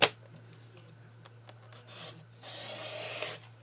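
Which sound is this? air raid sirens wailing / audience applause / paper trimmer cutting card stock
paper trimmer cutting card stock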